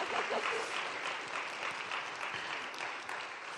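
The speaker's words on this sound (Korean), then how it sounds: "박수 좀 드릴까요?" An audience applauds during a Korean talk event, a short burst of even, moderately distant clapping from many hands that tapers slightly toward the end.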